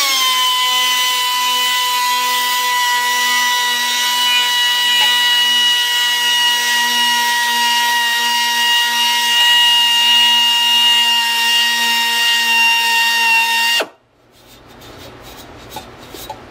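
A power sander with coarse 120 grit works on cast sportbike wheel rims, giving a loud, steady high whine with a grinding edge that runs continuously for about fourteen seconds before cutting off abruptly, followed by faint scattered handling noise.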